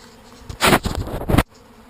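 Honeybees working at a hive entrance, a loud swelling buzz of many bees close by for about a second, then cutting off abruptly into near silence.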